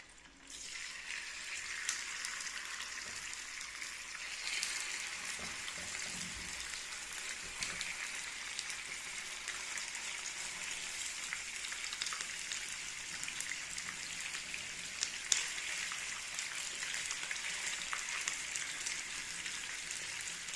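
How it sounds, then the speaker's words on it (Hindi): Fish pieces frying in hot oil for a fish qorma, giving a steady, dense sizzle and crackle that holds at an even level throughout with no talk. "इनको हमने हल्का हल्का सा फ्राई कर लेना है।"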